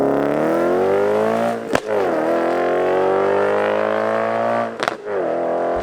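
An Audi RS4 launches hard down a drag strip, its engine note climbing steadily through the revs with two sharp gear shifts, loud and close, with no talk.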